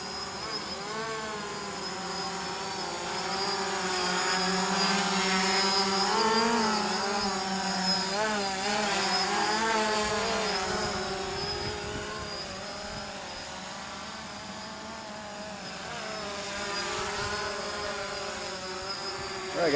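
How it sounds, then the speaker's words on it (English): A DJI Phantom quadcopter drone on its first flight hovers and moves in the wind, giving off a steady, high-pitched insect-like buzz that rises and falls slightly in pitch over about twenty seconds. "my new DJI Phantom"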